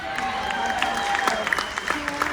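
A cruise ship audience claps for the room stewards at an onboard show, with steady applause and scattered sharper claps, a faint voice and music tones running underneath.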